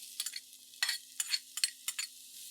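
Diced onion cooking in a pot with cumin, heard as quiet, rhythmic scraping strokes of a spoon over a soft sizzle, close and without speech.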